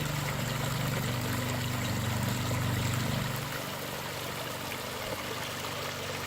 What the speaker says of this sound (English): Just finished up a pondless waterfall.